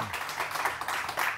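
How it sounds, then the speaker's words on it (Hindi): Brief burst of clapping from a small group, moderately loud and continuous throughout. "तालियां तालियां तालियां।"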